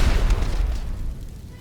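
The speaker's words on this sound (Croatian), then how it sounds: "Stiki bombe uvijek pale." A sticky bomb explodes in the GTA video game: a deep, heavy boom right at the start that rumbles and fades away over about a second and a half, with no voices.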